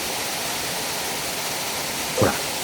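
A large waterfall pours into a deep plunge pool at the head of a mountain stream, a steady loud wash of rushing water with a brief low thump near the end.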